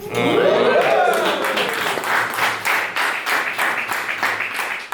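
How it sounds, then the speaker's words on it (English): An audience claps at a Seacret company event in Gothenburg. A voice rises and falls at the start, then a run of quick, steady handclaps fills the room. "Don't clap yet."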